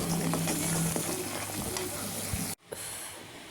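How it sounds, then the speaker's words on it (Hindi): Cumin seeds roasting in a hot pan give a steady broadband sizzle and hiss with faint stirring scrapes, then a brief cut and a quieter hiss afterward. "मैंने जीरा डाला और अब मैं इसे भून रही हूँ"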